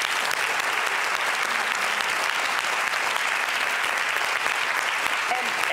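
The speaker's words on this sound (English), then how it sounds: "We just have to take this moment to applaud you." Sustained applause from a studio audience, dense and steady clapping that fills the whole stretch at a constant loud level with no talk over it.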